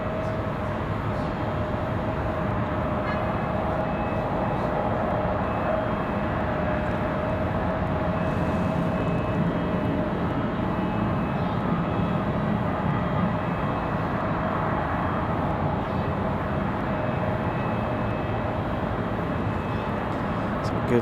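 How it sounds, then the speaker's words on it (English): A United Boeing 737-800 jet departs Raleigh Durham airport with a steady, broad engine roar that holds loud and even throughout, with a faint tonal whine riding above the rumble. "Good look at the United departure. They are headed to Denver, 737-800, no max for that flight."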